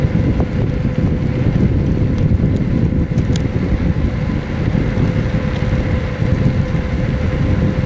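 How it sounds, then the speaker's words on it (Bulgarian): Strong wind blows across a seaside beach, buffeting the microphone in a loud, continuous low rumble that never lets up. "Мале къв вятър духа"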